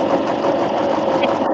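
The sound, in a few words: sewing machine stitching back and forth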